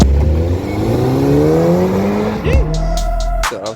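Homemade dual-motor electric bike on a test ride, with a loud rising motor whine and wind rush as it speeds up, then a clatter near the end, no talking.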